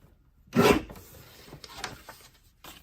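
A paper trimmer slices cardstock in one short, close rasping stroke, followed by fainter scraping and light handling sounds in a quiet room.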